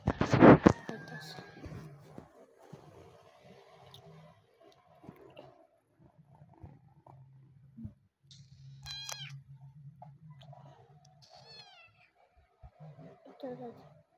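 A cat meows several times, with short rising and falling calls heard faintly in a quiet room. A person talks briefly between the calls, and a loud sharp knock comes near the start.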